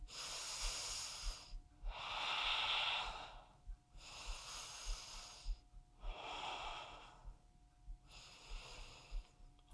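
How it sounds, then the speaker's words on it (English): Slow, deep breaths during a mat-based stretching workout, five long airy inhales and exhales in steady rhythm, close and fairly quiet with short pauses between them. "take some nice deep breaths"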